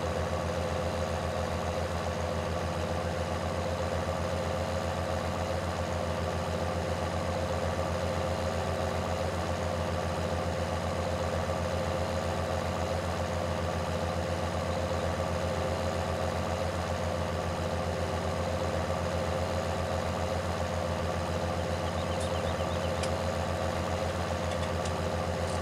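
Steady tractor engine idling in the farming game Farming Simulator 19, a continuous low drone with a faint rhythmic pulse that holds at an even level throughout, with no other sounds over it.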